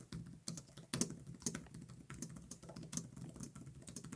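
Someone types on the clicky keyboard of an Asus ROG Zephyrus Duo (2026) dual-screen gaming laptop. Rapid, close, crisp keystrokes come in a fairly steady rhythm with no voices.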